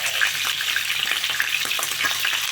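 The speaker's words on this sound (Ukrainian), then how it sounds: "Чуєте, як шкварчить?" Loud, crackling sizzle of pork brisket frying in a hot pan with oil, steady popping and hissing close up with no voices.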